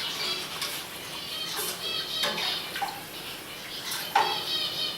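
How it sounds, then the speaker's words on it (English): Water pours and trickles onto rice in a cooking pan, a steady, soft splashing flow with a few louder drips, close and alone. "You add the rice, the water."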